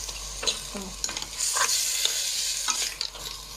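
Seafood stirred gently in a frying pot for seafood soup, with soft scraping stirs and bursts of sizzling spaced through a steady frying hiss, close and moderately loud, no talk.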